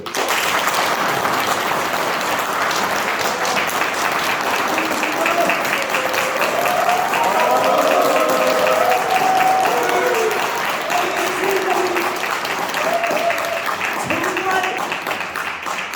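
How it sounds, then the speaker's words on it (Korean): Warm applause from the audience at a book concert swells and holds for about a quarter minute, steady and close, with a few voices calling out over the clapping. "박수 한번 쳐주세요"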